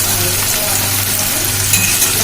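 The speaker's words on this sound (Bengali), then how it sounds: "চিলি চিকেনের এই ক্যাপসিকাম আর পেঁয়াজটাকে খুব ভালো করে ভাজবে" Capsicum and onion frying in a pan for chili chicken give a loud, steady sizzle with faint scrapes of stirring, close and continuous with no talk.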